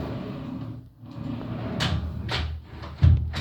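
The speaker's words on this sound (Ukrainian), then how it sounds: "Зручна система, відкриваються шухлядки натисканням" Push-to-open drawers in a designer rental apartment are pressed and slide open, giving a few soft close-range knocks and a sliding rush, with a firmer thump at the end.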